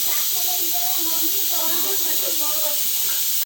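Pressure cooker steaming mutton lets out a loud, continuous hissing whistle, steady for several seconds with faint warbling tones beneath the rush of steam, cut off abruptly at the end.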